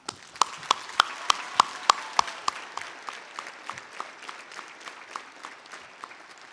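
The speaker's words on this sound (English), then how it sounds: "Graduates, would you please join me in a round of applause for the LC staff?" Applause at a high school graduation ceremony, led by sharp, evenly spaced hand claps in a steady rhythm, close and loud at first, then softening into lighter scattered clapping.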